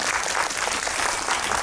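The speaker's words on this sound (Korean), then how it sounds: "박수 한번 주시겠어요?" Theater audience applauding at a film screening event, a dense, steady wash of many hands clapping at moderate volume throughout, with no voices on top.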